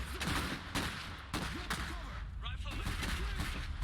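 Gunfire and explosions in the real-time strategy game Iron Harvest: dense bursts of rifle and artillery fire, loud and continuous, with a caster talking over the battle.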